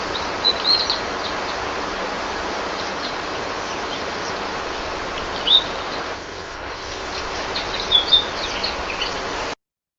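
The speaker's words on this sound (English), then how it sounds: "I used the prompt, "A relaxing day at the beach with the sound of birds."" An AI-generated relaxing beach soundscape: a steady wash of ambient noise with a few short, high bird chirps scattered over it, most clearly near the start, the middle and the end, before the sound cuts off abruptly.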